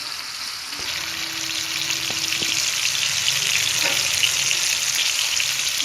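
Chicken dum kababs fry in a pan with a steady, bright sizzle that grows slightly louder, and a few soft clicks of tongs turning the pieces.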